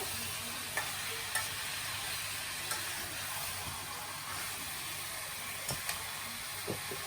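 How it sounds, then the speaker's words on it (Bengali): Meat and green chilies are stirred in a frying pan over a continuous sizzle, with light scrapes and clinks from the utensil every second or so. "মাংসটা দিয়ে যে নাড়াচাড়া করতেছি কাঁচামরিচ দিয়ে দিচ্ছি"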